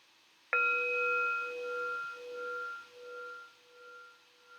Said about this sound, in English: I will ring the bell to start